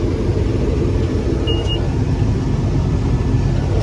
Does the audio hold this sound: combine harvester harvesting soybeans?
yes